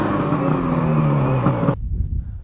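A vehicle revs hard while pulling a stuck car free on a Snobunje recovery rope, a loud sustained engine drone with a falling tone that cuts off abruptly near the end, leaving quieter low rumble.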